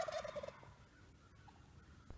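A wild turkey jake gobbles during a hunt in the southern woods, a single rapid rattling gobble at the start, moderately distant and fairly faint, followed by quiet outdoor ambience.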